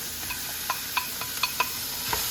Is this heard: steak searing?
yes